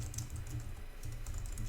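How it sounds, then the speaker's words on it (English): Keys clatter on a computer keyboard during a Figma design tutorial, a quick run of soft, close clicks in uneven bursts with a short pause in the middle. "And then as I start typing"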